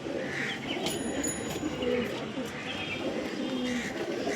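Malbai pigeons coo in a close, busy loft, soft throaty calls repeating beneath nearby talking and general rustle.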